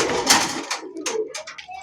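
Rajgolla pigeons coo in soft, low throaty bursts at close range, several short calls in quick succession with small rustles and a knock between them.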